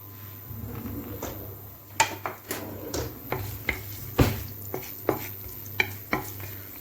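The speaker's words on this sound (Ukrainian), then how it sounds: "Перше обжарюємо часничок." Garlic frying in a pan while being stirred: a soft sizzle runs under repeated sharp scrapes and taps of a utensil against the pan, close and irregular, with a low hum in the background.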